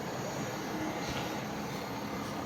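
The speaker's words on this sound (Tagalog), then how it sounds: "sumingay na yung compressor" A Carrier window-type air conditioner, recently showing an E1 error, runs with its compressor on, giving a steady, close, broadband hum and whoosh at an even level throughout, with no talking.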